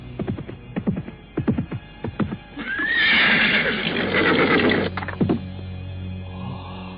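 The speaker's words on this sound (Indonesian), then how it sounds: "kuda yang ditunggangi Arya Kamandanu pun tiba di halaman bangunan tua" A radio-drama effect of a ridden horse arriving in the courtyard of an old building: a run of loud, close hoofbeats, then a long, strong whinny, then fainter snorting and stamping.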